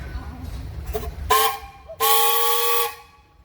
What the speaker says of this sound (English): How about a whistle, Tim?